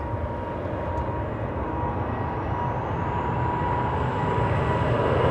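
Airliner jet engines roar steadily through a takeoff roll and rotation at Anchorage, a loud, continuous broadband rumble with a faint rising whine above it, building slightly toward the end without interruption.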